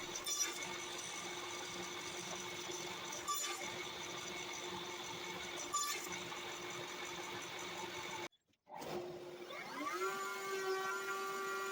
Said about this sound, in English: it was time to use a miter sled that I made to just cut those